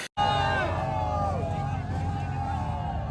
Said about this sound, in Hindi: जाहिर भाई को देखने के लिए यहाँ पे बहुत ज़्यादा भीड़ और क्राउड था